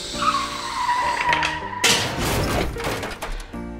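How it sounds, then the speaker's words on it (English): A balloon-powered toy race car rolls across a workbench and crashes off the edge, a short scrape and clatter followed by thuds and rattling on landing, with no voices. "crash a race car off a workbench"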